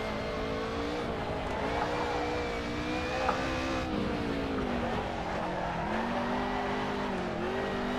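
Civic and Corvette DP race cars in Assetto Corsa, engine note rising and falling through shifts with tyre squeal while drifting sideways under hard throttle, loud and close, no talk.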